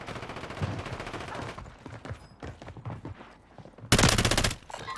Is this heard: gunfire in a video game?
yes